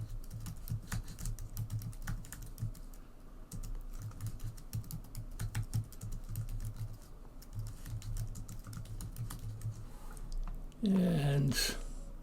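Fast, steady clicking of keys on a computer keyboard as a name is typed, close and moderately quiet, with a faint low hum beneath and a short louder noise near the end.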